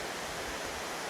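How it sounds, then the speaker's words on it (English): A waterfall in Shenandoah National Park roars as a steady, dense broadband rush of falling water, continuous and fairly near, with no voices over it. "I'm gonna take a few pictures of that waterfall."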